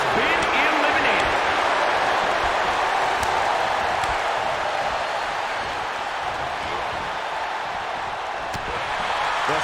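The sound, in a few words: wrestling arena crowd cheering in video game WWE 2K22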